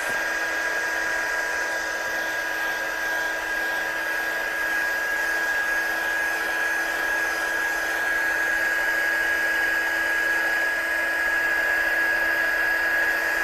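A hair dryer blows steadily on inky card layers, a loud constant whine with a sharp high tone held unbroken for the whole stretch, no voices.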